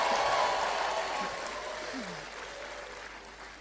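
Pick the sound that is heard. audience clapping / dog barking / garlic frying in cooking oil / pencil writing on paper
audience clapping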